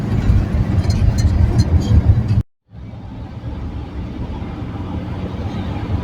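A Volkswagen T4 2.4 van drives with a low engine rumble and road noise; the sound cuts out briefly partway, then the engine drone resumes a little quieter.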